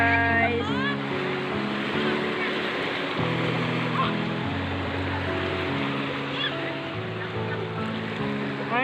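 Ocean waves wash steadily onto a beach, a loud continuous surf roar that runs through the whole stretch, with voices and some tonal sounds layered over it.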